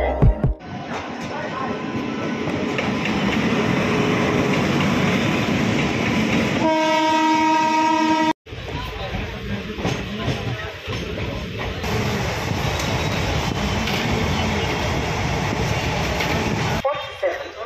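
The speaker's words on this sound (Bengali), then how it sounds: "এখন আসবে আমাদের ট্রেন," Train arriving at Farakka station, a loud continuous rumble and rattle of rail cars with clickety-clack, a sustained horn blast midway, and a brief cut before the rolling noise resumes and continues, with voices in the background.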